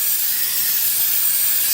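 Starting fluid sprays from an aerosol can onto an engine component, a continuous close, bright hiss that holds steady for under two seconds with no other sound.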